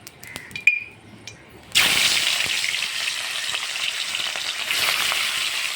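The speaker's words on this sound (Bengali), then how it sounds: "এইভাবে সব মাছগুলো একে একে করে ভেজে নেবো।" Katla fish dropping into hot, smoking mustard oil sets off a sudden loud, close sizzle that carries on steadily after a few quiet clinks.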